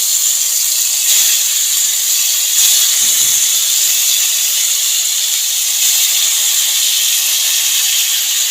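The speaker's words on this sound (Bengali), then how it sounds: "এবার আমি মাছটা দিয়ে দেবো ওপর দিয়ে সব একটা একটা করে সাজিয়ে দেবো" Hilsa fish pieces laid into hot mustard-oil tempering in a wok while cooking begun ilish shorshe, giving a steady loud hissing sizzle throughout with a few faint clicks, no talking.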